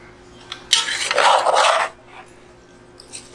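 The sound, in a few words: mixing cheese sauce into potatoes in a Dutch oven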